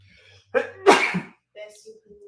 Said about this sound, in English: I gotta sneeze one more time.